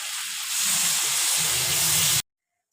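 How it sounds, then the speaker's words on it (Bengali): Water poured into a pan of browned Bengali-style mutton hisses and sizzles loudly for about two seconds, then stops abruptly, with no voices. "এবারে মাংসতে আমি জল দিয়ে দেব।"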